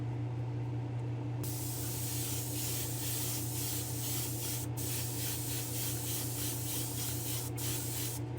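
An airbrush sprays candy black paint onto an '80s Bronco in a spray booth, a steady close hiss that starts abruptly and runs continuously with brief interruptions, over a constant low booth hum.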